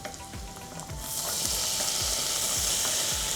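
White wine hits a hot pan of sweating coriander stems, the quiet stirring giving way to a loud, sustained sizzle that fills the rest of the moment, close and without talk.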